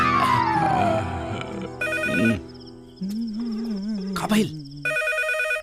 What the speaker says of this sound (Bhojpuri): अरे कौन पपिया है टाइम में फोन करस रे? रिंग जाता